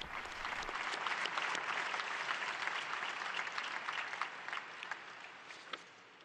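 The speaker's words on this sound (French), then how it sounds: "Applaudissez pour le nouvelle personne béatifiée." Large crowd applauding at a papal general audience for a newly beatified person, a broad even wash of clapping from a distance, sustained and slowly thinning toward the end.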